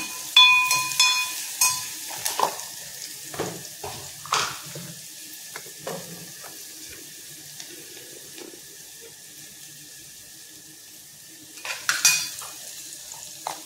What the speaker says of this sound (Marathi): अर्धा कांदा घातलेला आहे फोडणीला